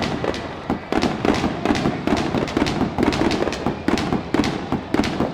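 Fireworks after an Arkansas vs. Texas A&M college baseball game, a dense continuous barrage of booms and crackling bursts, loud and sustained throughout with no talking.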